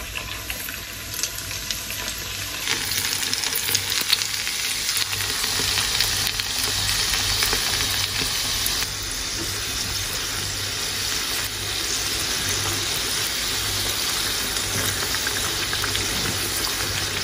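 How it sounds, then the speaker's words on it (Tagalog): Mini apple pies fry in hot oil with a steady, close crackling sizzle that runs continuously without pause and with no voices over it. "i-fry lang natin to hanggang sa mag-golden brown"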